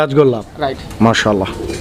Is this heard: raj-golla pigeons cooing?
yes